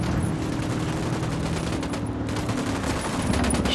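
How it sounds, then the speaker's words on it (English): Sustained gunfire from the Ghost Recon Wildlands video game, a dense continuous fusillade of rapid automatic shots that stays loud and steady throughout, with no voices over it. "Opening fire."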